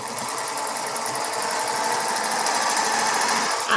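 A sewing machine runs steadily and loudly throughout, a continuous mechanical whir with rapid stitching rhythm and no pauses.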